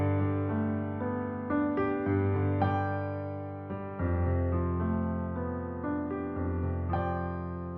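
An XLN Addictive Keys Studio Grand virtual piano on a wide ribbon-mic preset plays sustained chords and melody notes, full and resonant, with no voices.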